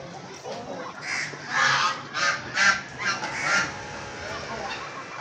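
Several geese honk in a run of loud, nasal calls, close by, rising in a cluster and then fading back to a steady outdoor hum.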